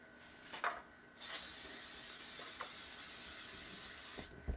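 Cooking spray hisses onto a pan of homemade cinnamon rolls in one long, steady, close burst of about three seconds, after a couple of short clicks and brief handling noises.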